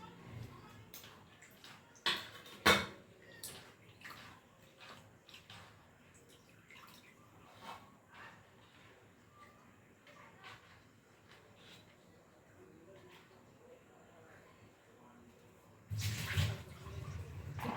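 Cut paneer cubes being rinsed in hot water in a home kitchen, quiet splashing and dripping with a few sharp clinks and a louder burst of running water near the end.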